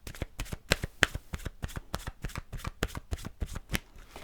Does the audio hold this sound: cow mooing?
no